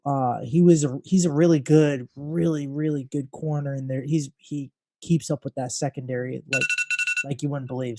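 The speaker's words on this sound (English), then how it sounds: "Sorry about that phone." A telephone rings with a brief burst of electronic ringing near the end, heard faintly beside someone talking steadily about football players.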